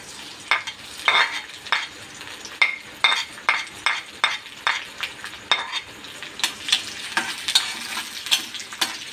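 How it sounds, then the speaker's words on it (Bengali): Chopped garlic sizzling in hot white oil, a nearby crackling fry broken by regular scraping strokes of a spatula against the pan, with no voices. "তেলটা আমার গরম হচ্ছে, তো এবার আমি দিয়ে দেবো"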